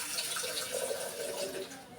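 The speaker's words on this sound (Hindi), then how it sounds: "ये मैंने इसके अंदर 100 ग्राम पानी और डाल दिया" About 100 grams of water is poured into a pressure cooker holding meat with carrots and fenugreek, a close, steady splashing stream that tapers off near the end.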